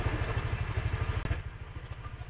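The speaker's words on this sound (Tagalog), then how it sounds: "pinapainit ko lang yung motor" A motorcycle engine idles steadily while warming up, its low, even chugging close and continuous, broken only by one brief click partway through, with no voices.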